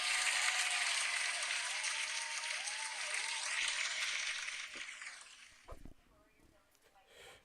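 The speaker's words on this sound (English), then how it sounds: "let's get a big old fat round of applause for me." A burst of applause played as a sound effect on a live pro wrestling talk stream, steady and dense for several seconds before fading out, with a few faint thumps at the end.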